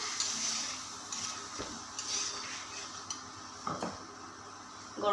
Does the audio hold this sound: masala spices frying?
yes